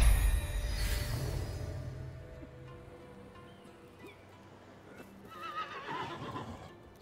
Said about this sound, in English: I hear a horsey.